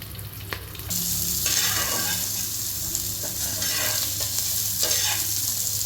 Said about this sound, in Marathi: कांदा आपण भाजून घेणार आहोत